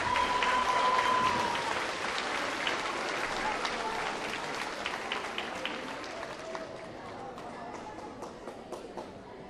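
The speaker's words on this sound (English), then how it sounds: "A huge round of applause to these students for working so hard." Audience applause at a school awards assembly: dense, sustained clapping from a large crowd, loudest at the start and gradually thinning, with scattered individual claps standing out near the end.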